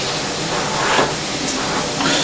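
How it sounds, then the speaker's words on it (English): Potato pancakes sizzle in a pan with a steady, continuous frying hiss that swells slightly at moments and never pauses. "in case you're wondering what that sizzling sound is, I am cooking potato pancakes on the go."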